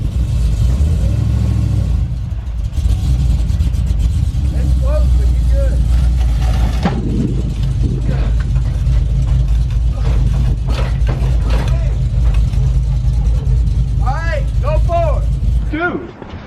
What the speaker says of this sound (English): now he's loading this truck up on the trailer